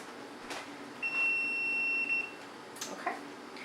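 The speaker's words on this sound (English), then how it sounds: "I'm just waiting for our beeper to beep." A kitchen timer beeps once in a steady tone for about a second while beets for pickling cook, with a second shorter beep after it, faint over a quiet room.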